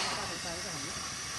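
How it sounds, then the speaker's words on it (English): Snow melting and boiling in a pot on a camp stove high on Everest, a steady hissing roar of the burner with faint murmuring voices beneath. "Boiling snow when you're tired."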